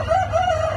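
A white rooster kept with hens at a small animal reserve in Zaafaraniya, Baghdad, gives one loud, close, drawn-out crow that holds steady throughout.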